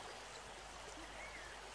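A river stream flows in a steady, continuous wash of water, a soft, even rush with no talking over it.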